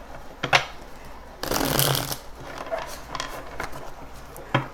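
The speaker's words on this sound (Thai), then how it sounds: "ก็สับก่อนเนาะอันนี้แบบใหม่มาก" A deck of tarot cards being shuffled by hand, with a few short riffling bursts and one longer, louder flurry of card snaps close by, separated by quieter handling.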